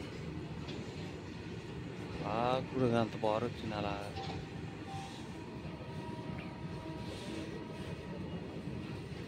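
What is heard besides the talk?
goods train passing station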